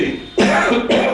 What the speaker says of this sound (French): toussez